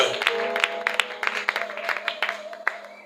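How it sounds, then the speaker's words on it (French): A church congregation applauding during a fasting and prayer service, with a dense wash of claps, some sharper claps, and a sustained musical tone underneath, loud and continuous throughout. "Acclamons très fort pour la gloire de Dieu"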